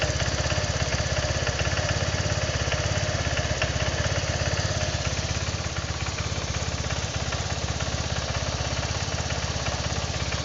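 A Honda Vario 125 scooter with a fault that makes it die when throttled runs nearby. The engine is loud and rough, with a rapid pulsing beat that stays steady throughout, and no clear stall is heard.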